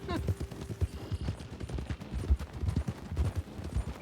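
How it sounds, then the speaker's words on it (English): Horse hooves in a Red Dead roleplay game, a rhythmic clip-clop of several horses approaching from behind, moderately close, with low ambient noise. "Horses behind us, I think."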